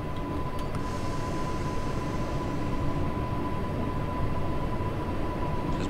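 A Class 484 electric train sits at Brading station on the Isle of Wight in Train Sim World 2, giving a steady low rumble with a thin constant electrical whine, unchanging throughout.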